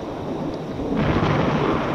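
A deep, heavy rumble of thunder rolls and swells loudly, with a steady wash of rain hissing underneath throughout.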